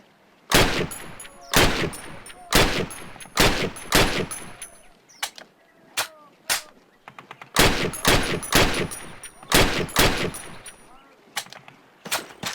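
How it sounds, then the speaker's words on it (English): Rapid bursts of gunfire from a Call of Duty training range on PC, loud and close, firing in clustered volleys of several rounds with short pauses between them, and no talk over the shots. "Fire 6 more rounds at your target, in different stances and while moving."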